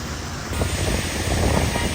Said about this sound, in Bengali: পানি পড়তেছে